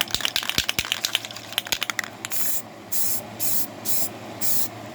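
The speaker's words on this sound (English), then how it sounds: "I'm just going to show you quickly how I actually spray primer onto the model" Rapid clicking gives way to five short bursts of aerosol spray primer hissing onto a plastic model car kit at a steady rhythm, close by, with no voices.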